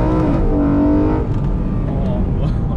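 A BMW car engine revs and climbs in pitch while driving at highway speed, a steady rising drone heard from inside the vehicle, with a voice talking over it.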